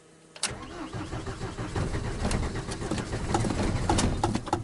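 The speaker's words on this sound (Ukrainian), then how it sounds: "Пробую запустити двигун" A van's engine cranks and catches, then settles into a steady running rumble, close by, with faint bird calls in the background.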